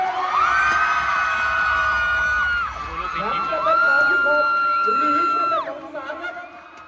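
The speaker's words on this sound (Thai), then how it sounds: "ขอเสียงกองเชียร์ทั้งสองพี่น้อง" Football supporters of both teams shouting and cheering in a stadium at a league match, sustained loud crowd yells with rising whoops over a steady roar, a commentator's voice running over the top.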